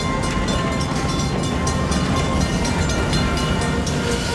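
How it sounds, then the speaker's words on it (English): Steady rumble of a passenger train riding on rails, heard from inside a carriage at Six Flags Fiesta Texas, a continuous, dense, loud roar with no voices. "It's relaxing to be on a train."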